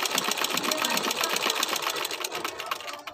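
A sewing machine stitches along the rounded edge of a cloth face mask, its needle running in a fast, steady, close-up rattle for the whole stretch with no talking over it.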